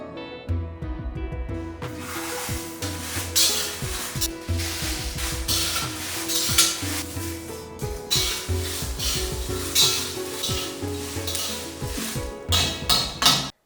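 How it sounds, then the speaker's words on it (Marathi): Chillies sizzle and crackle in a little hot oil over medium gas while two flat spatulas stir and scrape the pan steadily, with music playing throughout. "मध्यम गॅसवर मिरची अशी दोन उलथाने घेऊन पटापट हलवत भाजून घ्यायची"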